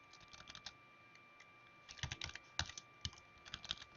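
Typing on a computer keyboard, close and quiet, starting as scattered light taps and quickening into a denser run of keystrokes, with no talking.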